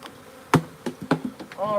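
Honeybees at a beehive feeder buzz close by in short, uneven bursts, punctuated by several sharp knocks and taps, with a louder whining buzz rising at the end.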